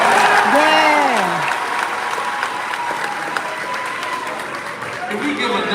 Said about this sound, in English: Can we give another round of applause for Charlize Carr?